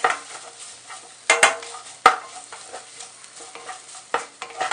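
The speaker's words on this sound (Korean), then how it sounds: "이렇게 토마토 페이스트랑 토마토를 볶았다면" Tomato paste and chopped tomatoes are stir-fried in a pan for minestrone soup, a soft sizzle broken by repeated scraping strokes and sharp clacks of a utensil against the pan.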